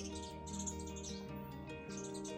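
Sparrows chirp busily and continuously, a dense chatter of overlapping high tweets with no pauses.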